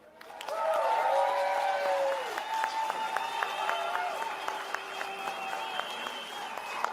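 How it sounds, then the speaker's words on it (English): Crowd applause at a UK farmers' protest rally in London, swelling quickly and holding steady with scattered sharp claps, mixed with voices and tonal sounds from the open-air gathering. "Come on, another big round of applause for Jess Sharp there."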